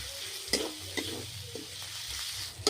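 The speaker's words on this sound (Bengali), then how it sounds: "এখন আমি ভালো করে টমেটোগুলো পেঁয়াজের সাথে ভেজে নেব।" Chopped onions and tomato fry in a pan, a steady close sizzle broken by a few sharp scrapes of a spatula as they are stirred.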